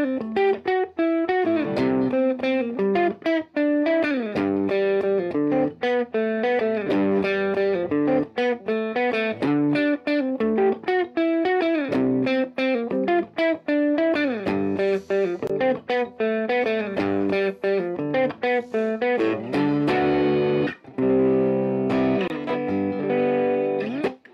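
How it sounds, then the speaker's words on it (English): An electric guitar played through a VOX Mini Superbeetle amp with the gain raised gives mildly broken-up, distorted chords strummed steadily, harder and softer hits alternating, close and alone without speech. "What's nice about using the Mini Superbeetle is as I turn the gain up, it's emulating a little bit of that power amp breakup."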